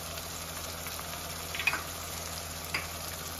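Masala frying with boiled mutton boti pieces in a pan, a steady low sizzle throughout with two brief stirring scrapes, no talking.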